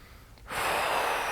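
A single deep, forceful breath drawn in through the nose during a hamstring stretching exercise, starting abruptly and continuing steadily and close up with no talk.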